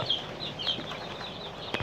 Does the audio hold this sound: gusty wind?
no